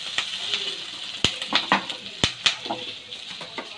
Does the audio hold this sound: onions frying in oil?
yes